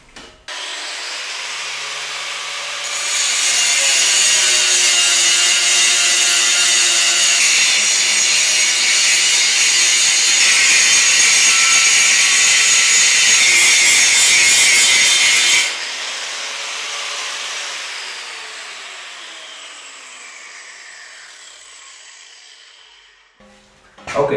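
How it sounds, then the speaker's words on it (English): An angle grinder flattens weld beads on the metal frame of a heavy-duty foldable assembly table, a loud, steady, harsh grinding roar lasting about twelve seconds, then dropping to a softer whir that fades out, with no talking. "I will grind the weld beads so they are perfectly flat and ready to receive the tabletop"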